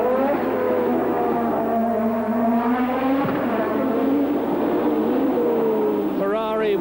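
A 1982 Formula 1 car on overrun at the US West Grand Prix, its high engine note swooping down and up as it lifts off and reaccelerates, loud and close, with a commentator talking over it.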